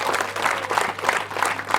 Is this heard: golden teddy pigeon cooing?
no